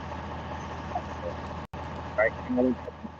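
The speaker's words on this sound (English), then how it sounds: "What's that noise in the background? Hold on. Let me cut the truck off. I guess it's a truck." A work truck engine idling in the background, a steady low rumble that holds throughout with one brief dropout, while voices talk over it.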